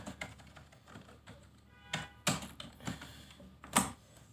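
Urdu text being typed on a computer keyboard, a quick uneven run of light key taps with a few louder clacks, heard close with no talk over it.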